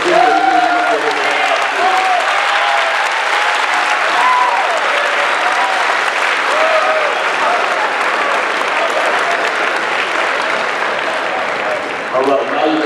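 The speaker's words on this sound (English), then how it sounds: "give Congressman Clyburn a round of applause for the wonderful speech that he did" A school assembly audience gives sustained, loud applause that fills the room, steady throughout with a voice briefly audible at the start and end.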